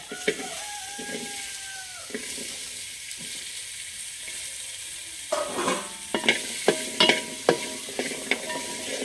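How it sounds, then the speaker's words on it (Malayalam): Shallots and drumsticks sauté in a pan with a light sizzle under repeated scraping stirs, the strokes growing louder and rhythmic toward the end. "നന്നായിട്ടൊന്ന് വഴറ്റി കൊടുക്കണേ"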